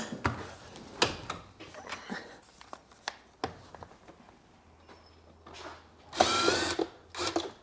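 A power tool gun spinning fasteners on a car dashboard during interior work, several short bursts of whirring with pauses and clicks between them, the longest burst near the end.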